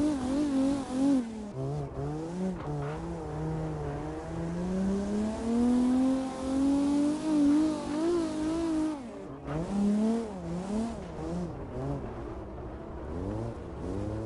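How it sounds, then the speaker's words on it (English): A car drifting in a racing video game, engine revving and wavering steadily while tires squeal through long slides, loud and continuous for the whole stretch. "See, my drifts are not clean."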